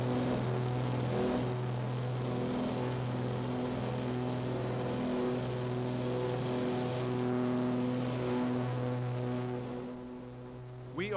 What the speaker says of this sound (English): Our plane is a twin-engine Piper.